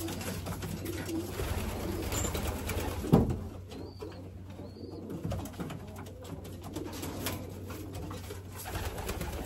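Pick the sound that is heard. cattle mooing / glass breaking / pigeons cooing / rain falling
pigeons cooing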